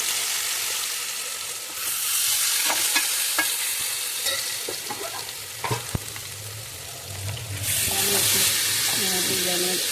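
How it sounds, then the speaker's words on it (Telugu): Fish pieces dropped into hot oil for frying set off loud bursts of sizzling and hissing near the start and again toward the end, with quieter bubbling and stirring in between. "ఇగో ఇందులో నేను చేపలు వేసుకుంటున్నాను"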